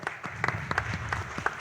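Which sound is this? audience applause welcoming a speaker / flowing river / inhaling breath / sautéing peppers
audience applause welcoming a speaker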